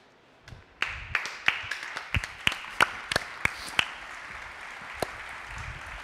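A small audience claps sparsely, with scattered distinct sharp claps that trail off into a few isolated ones against a quiet room.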